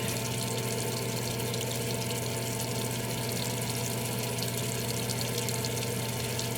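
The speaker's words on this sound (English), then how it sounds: "Rinse your beard with some water" Tap water running steadily while a beard is rinsed at home, a constant hiss of flowing water with a low hum underneath, close and uninterrupted.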